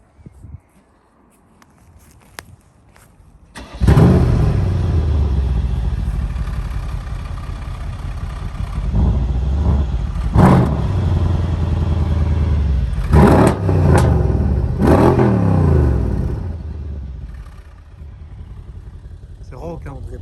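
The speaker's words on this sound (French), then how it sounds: "C'est rauque, hein. On dirait presque la redescente du turbo" Raspy engine of a 628 hp, 1050 Nm car revs hard after a quiet start, holding a loud rough drone with sharp bursts, then eases off as the turbo spools down, with voices talking over it.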